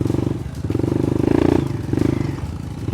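A 250cc motorcycle engine revs up and down under the throttle, loud and close, with a rough, pulsing buzz that swells and eases several times over a few seconds.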